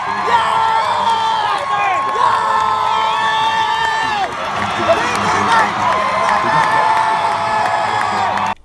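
A concert crowd at a show screams and cheers continuously, with shrill close-up shrieks from a nearby fan over a dense roar of the audience and some scattered clapping.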